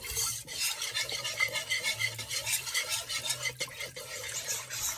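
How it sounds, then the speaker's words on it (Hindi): A whisk scrapes and swirls steadily through a milk mixture in a pan for chicken pasta, a soft rhythmic metallic stirring that stays close and moderately quiet throughout, with no talking. "इसको विस्क के साथ कर लें ताकि इसमें गुठलियाँ ना बने।"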